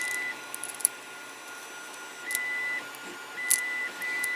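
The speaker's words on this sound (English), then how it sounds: "I might just dump the whole lot in the ultrasonic cleaner" An ultrasonic cleaner hums steadily with a thin, high-pitched whine that cuts in and out, cleaning parts from Lesney Matchbox No.4 Dodge Stake trucks, with a few small clicks and clinks, close and unaccompanied by talk.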